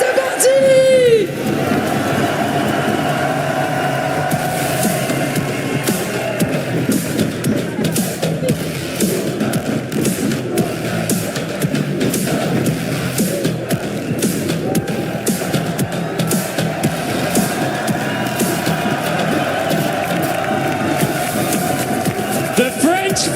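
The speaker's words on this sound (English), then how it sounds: "the crowd is on its feet" A loud crowd at a Valorant esports watch party in Paris cheers and roars continuously throughout, a dense sustained wall of voices with whoops and shouts, and no single speaker stands out.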